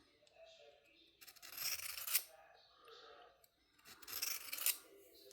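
Knife blade drawn across a Worksharp folding field sharpener gives two longer rasping strokes with a few lighter scrapes between them, close by and fairly quiet, with no speech.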